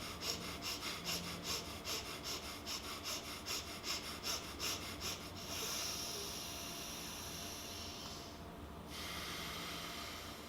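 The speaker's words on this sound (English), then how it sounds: "So a lot of quick breaths for as long as you can with a good cadence, and then once you're done, once you kind of break your rhythm, long inhale" Rapid rhythmic breaths through the nose for about five seconds during a warmup breathing exercise, followed by one long, steady inhale and a slow exhale, close and alone.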